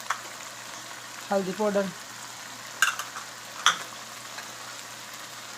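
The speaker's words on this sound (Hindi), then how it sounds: "मसाला हमारा भून चुका और अब इसमें नमक डालेंगे" Spices fry in oil in a pan while being stirred, giving a soft, continuous sizzle with a few scraping stirs. Someone briefly speaks over it.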